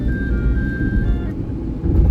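A car being driven on a road in Pakistan, with a steady low engine and tyre rumble close by and a faint whine fading out partway through.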